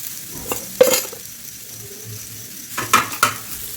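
Ground drumstick leaf chutney paste fries in a pan over low flame. A soft, low sizzle runs underneath a few sharp scraping stirs from a spoon against the pan, two near the start and a cluster near the end.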